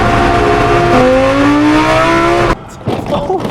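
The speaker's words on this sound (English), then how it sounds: "I can't hear anything because of all the cars" Racing cars in the paddock at the Silverstone Festival, loud engines revving and rising in pitch close by, then cutting off abruptly into quieter crowd and engine noise.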